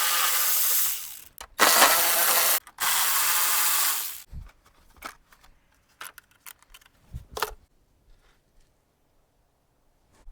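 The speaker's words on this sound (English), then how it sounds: "we're going to be using an extension with a 10 millimeter socket to loosen them and take them off" Ratchet with an extension and 10 mm socket loosening bolts on a Toyota Tercel during radiator removal: a loud sustained mechanical burst, then scattered clicks and knocks that fade to quiet.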